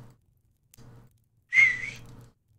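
Grass whistle being studied in the colonial survival game Salem, a short bright whistle tone lasting under a second after two soft thuds, clear and alone in an otherwise quiet scene.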